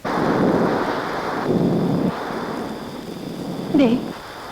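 A thunderstorm with rain and wind in a Malayalam film scene, a loud rumbling roar of rain and gusts throughout, with a brief louder burst near the end.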